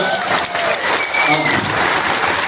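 An audience at a public housing lottery event breaks into sustained, dense applause, many hands clapping loudly and continuously from close by, with a voice faintly beneath.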